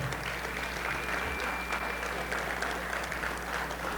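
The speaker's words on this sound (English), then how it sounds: "let's clap it up for all the honorees one more time" A crowd at the Rialto Sports Hall of Fame 2024 ceremony applauds the honorees, steady dense clapping held throughout at moderate volume.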